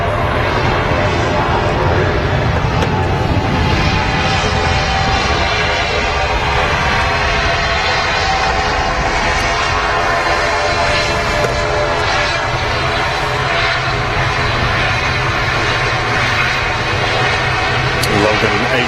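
An ATR 72 turboprop airliner at Manchester Airport, bound for the Isle of Man, drones loudly and continuously with a broad engine roar, while a voice talks over it.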